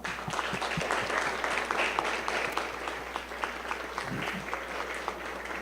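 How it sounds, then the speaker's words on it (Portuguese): A seated audience at a youth parliament talk on violence against women in Nepomuceno applauds steadily, a dense, even wash of many hands clapping throughout. "eu queria aqui uma salva de palmas para os nossos jovens"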